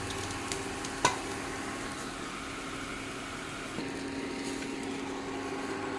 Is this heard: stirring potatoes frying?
yes